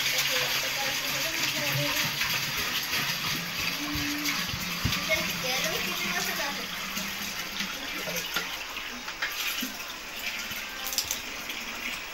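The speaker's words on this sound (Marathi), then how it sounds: "गाईज आम्ही पाणी भरले याच्यामध्ये, तुमच्या माठात" Water runs steadily into a clay pot, a continuous gushing pour close by that lasts the whole stretch. Faint voices sit under it.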